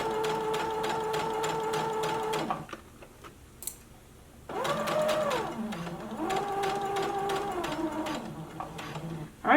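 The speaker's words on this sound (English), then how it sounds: "So go ahead and begin sewing, back stitch" A sewing machine stitches an elastic waistband on a drawstring maxi skirt, its rapid needle rattle running in two close bursts with a pitch that rises and falls as the speed changes, separated by a short quiet pause.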